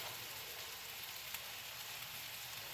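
Onions frying in a pan, giving a steady, even sizzle that holds at a constant level throughout with no talking.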